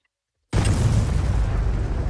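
A nuke detonates in the video game Garry's Mod, breaking out of silence as a loud, sustained rumbling blast that keeps roaring without fading for the rest of the moment, with no voices over it.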